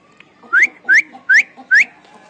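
A parrot whistles four short rising notes in an even rhythm, close and clear against a quiet background.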